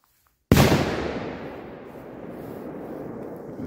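Cobra 18 gram and Pirobun 30 firecrackers go off in one sharp, loud blast after a brief silence, followed by a long rumbling echo that slowly fades.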